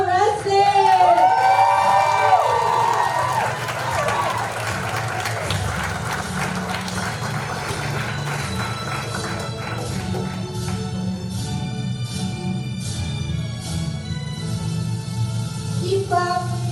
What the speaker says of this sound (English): Please put your hands together for our very own keynote